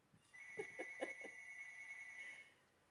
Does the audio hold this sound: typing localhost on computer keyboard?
no